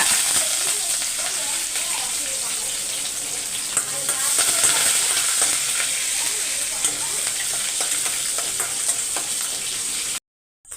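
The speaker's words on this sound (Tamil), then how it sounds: "இப்போ இந்த அளவுக்கு கடலப்பருப்பு பொறிஞ்சோன்னா" Chana dal, urad dal, green chilies and curry leaves fry in oil in a pan for lemon rice, giving a constant close sizzle with occasional stirring scrapes before the sound cuts off abruptly near the end.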